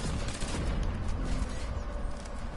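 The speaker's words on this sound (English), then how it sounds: "That sidearm, the way it shoots" Sidearm fire in the Destiny 2 video game: a dense, continuous burst of rapid shots with a heavy low rumble, loud and unbroken throughout.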